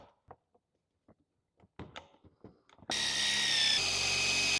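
A power drill backs screws out of a piece of wood, starting with a few scattered taps and knocks, then running loud and steady for the last couple of seconds.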